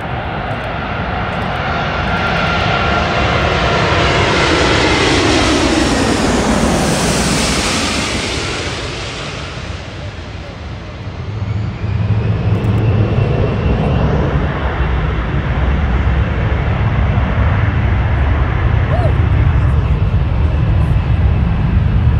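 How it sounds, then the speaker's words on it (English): An Emirates Airbus A380 jet airliner passes with a loud, sustained engine roar that swells, dips briefly as it goes by, then returns as a broad rumble with some wind. "Flight of the day, Airbus A380, flight 215 from Dubai"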